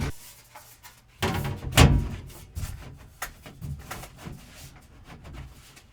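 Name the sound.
access panel door being handled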